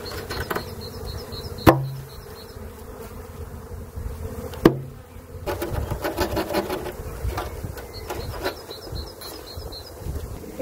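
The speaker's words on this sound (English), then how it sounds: "so there's a lot of bees in here." Honeybees buzz steadily and close by inside an opened national hive, a dense droning hum broken by two sharp knocks.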